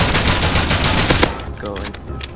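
Rapid gunfire in the modded survival game Rust strikes the player. A loud, dense burst of shots runs for over a second and then breaks into a few scattered, fainter cracks with a brief voice underneath.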